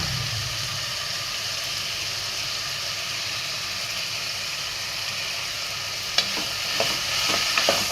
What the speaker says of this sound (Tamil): எல்லாம் 2 நிமிஷம் வதக்குங்க.